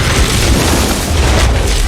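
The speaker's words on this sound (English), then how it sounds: "Victor pushes the button and blows himself up" In an action film, a man blows himself up with an explosive device, setting off a loud, sustained blast with a deep booming roar that fills the whole moment.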